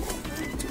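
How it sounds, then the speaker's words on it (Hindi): A chameliya pigeon coos briefly, soft and close, with a low throaty burble heard alone against faint background noise. "और एक ये देखो चमेलिया कबूतर।"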